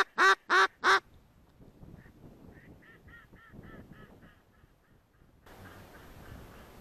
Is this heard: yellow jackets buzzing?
no